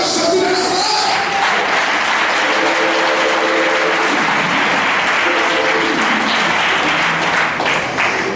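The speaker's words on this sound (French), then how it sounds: "est-ce qu'on peut acclamer Jésus de Nazareth?" A church congregation at a Marcory evangelical service applauds and cheers, sustained loud clapping from a large crowd filling the room for several seconds, with voices shouting over it.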